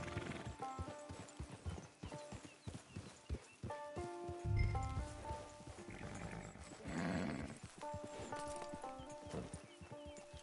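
Horse hooves clip-clop in a steady rhythm in the video game Red Dead Online on PS4, over ambient music, with a horse snorting and whinnying partway through.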